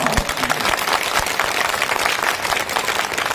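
A thick, loud wash of audience clapping fills a gathering at an Ashoka Dhamma Vijay festival and pillar inauguration ceremony, sustained at an even level and heard on its own.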